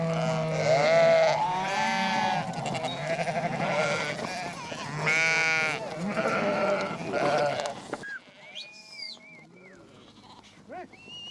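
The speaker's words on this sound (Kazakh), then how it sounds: "қой табынын қораға айдап келді" Kazakh herders in China drive a flock of sheep into the pen at dusk. Many loud, overlapping bleats come from close by for several seconds, then give way to quieter, scattered calls.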